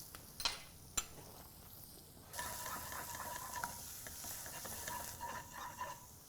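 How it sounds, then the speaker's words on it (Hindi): Asafoetida, cumin, chopped green chili and finely chopped ginger hit a hot pan, a faint crackle that swells into a steady sizzle partway through, with a few sharp clicks and taps of a utensil early on. "गर्मा गर्म पैन के अंदर हम डालेंगे सबसे पहले हींग, इसके अंदर डालेंगे हम जीरा, chopped green chilli, chopped ginger"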